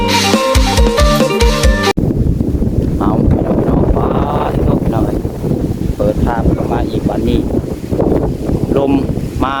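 Strong storm wind gusts against a house, a loud, rough roar buffeting the microphone after a short burst of music at the start, with people talking underneath.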